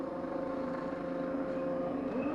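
A CART race car's engine hums at a steady, droning pitch during a pit stop at the Michigan 500, a sustained tonal whine heard from a distance.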